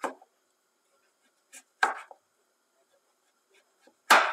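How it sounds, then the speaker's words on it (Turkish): Peeled potatoes are chopped into long fries with a knife: a few sharp, isolated cuts spaced by quiet pauses, close and clear, with no talking. "kabuklarını soyduğum ve güzelce yıkadığım 2 adet patatesi de kızartmalık bir şekilde uzun uzun doğrayacağım"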